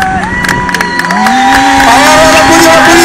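Outdoor crowd at a solidarity bike event in 2012 cheering and clapping at steady volume, with whoops and a voice rising above it, cheering that swells slightly partway through.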